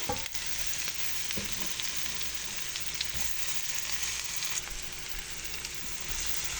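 Melon skin fries in a pan with curry and tofu, giving a steady, close sizzle with occasional stirring scrapes and a brief knock near the start.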